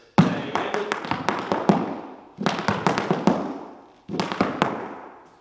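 Irish dance shoes tap out three quick bursts of sharp steps on a hard floor, a rapid pullback-and-turn rhythm. Each flurry is close and crisp, separated by brief pauses, with no talking.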